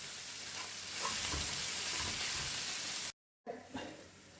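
Spices sizzle and fry in hot oil in a pan before jumbo prawns are added, a steady bright crackling hiss with stirring, briefly cutting out before resuming.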